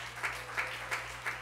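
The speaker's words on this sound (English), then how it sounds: "Come on, give God a clap." Congregation at a Sunday church service clapping in a slow, even rhythm, four distinct claps roughly a third of a second apart, fairly faint against a low steady hum.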